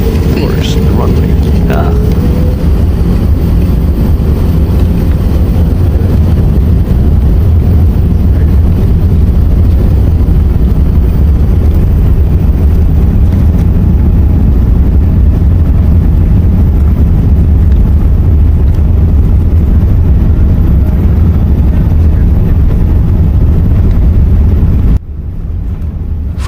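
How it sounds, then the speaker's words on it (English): An Emirates Airbus A380 on its takeoff roll, heard from inside the cabin as a loud, steady low engine roar and rumble that builds over a long stretch before dropping off at the end. "this was the longest takeoff that A380 ever took since I started flying"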